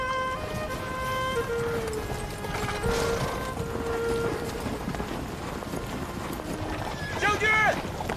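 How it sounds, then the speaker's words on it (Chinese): Horse hooves clip-clop in a rapid, continuous rhythm at an ancient battlefield camp, mixed with shouting voices, metallic clanks and a rising bugle-like tone near the end. "把我的马牵来！"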